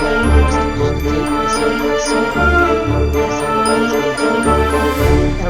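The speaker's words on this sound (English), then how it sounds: "so it's just like a random bell sound." A bell rings intermittently amid a sustained tonal musical background, with bright chiming strikes recurring roughly every second or two, loud and close, no speech.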